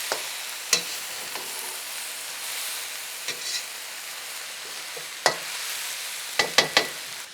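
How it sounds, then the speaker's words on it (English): Beef and broccoli frying in a pan, a steady hiss and sizzle with occasional sharp scrapes and clacks of stirring, loudest near the end. "now meat's going back in. And I'll mix that up a little too."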